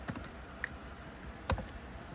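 Several faint, sparse key presses on a computer keyboard as a prompt is typed, with a soft click near the middle and a slightly louder tap later, against a quiet background.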